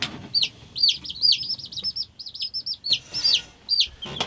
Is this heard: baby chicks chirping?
yes